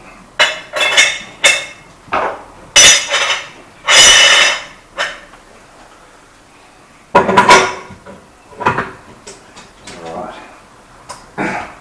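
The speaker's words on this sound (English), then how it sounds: "Alright, so we'll just assemble all our mincing" Metal parts of a meat mincer are fitted together for making venison meatballs, giving irregular close clanks, clinks and knocks that come in bursts with short quiet gaps between them.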